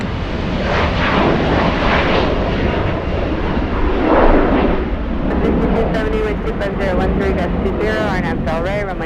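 A SkyWest airliner takes off from runway 24 Left at LAX with a broad, steady engine roar that swells briefly mid-way, while air traffic radio voices talk over it.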